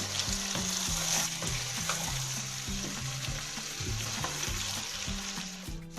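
Green chillies and vegetables fry and get stirred in a pan for a vegetable biryani, giving a steady loud sizzle with repeated scraping stir strokes throughout.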